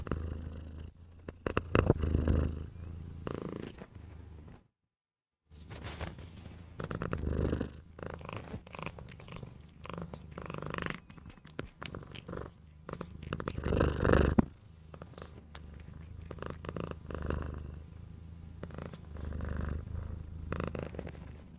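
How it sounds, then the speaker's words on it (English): Dolly the cat purring close up, a continuous low rumbling purr with a steady pulse that runs for most of the stretch, broken by one brief pause and some rustling handling noises. "You want to hear the purr?"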